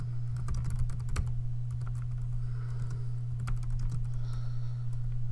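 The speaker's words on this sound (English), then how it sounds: "I'm going to try to type fast." Rapid typing on a computer keyboard, a steady run of quick clicks and taps over a constant low electrical hum, with no talking.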